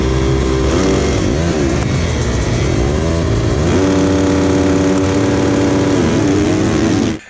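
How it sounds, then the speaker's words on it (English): A 2003 Arctic Cat Pantera 550 snowmobile engine roars loud and steady while launching, its pitch sweeping up and down in surges as the faulty clutch keeps catching and jerking forward, with no talk. "Well, you can see it was like kept catching and like jerking me forward."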